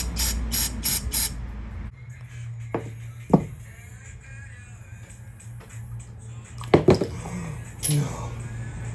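Short hissing bursts of cleaner spray through the carburetor passages of a Yamaha YFZ450 ATV, alternating with metallic clinks and handling noises over a low steady hum.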